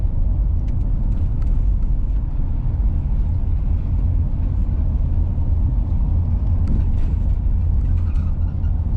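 A car driving along a road, a steady, loud low rumble of engine and tyres heard from inside the vehicle, continuous throughout with faint rattles and no talking.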